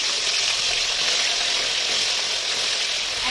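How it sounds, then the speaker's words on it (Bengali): About 1.25 kg of chicken pieces fry in hot oil in a pan for Bengali chicken curry, giving a steady, loud, hissing sizzle close up with no voices. "আমি এবার এই চিকেনটাকে এই তেলের মধ্যেই দিয়ে দেবো"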